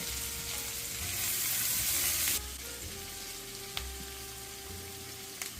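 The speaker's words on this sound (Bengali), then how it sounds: "পেঁয়াজ কুচিটাকেও আমি এক মিনিট মতো ভেজে নেব" Chopped onion fries in a pan for a Bengali papaya mash, giving a steady close sizzle and crackle that rises briefly and then settles into a softer continuous hiss, with no voices.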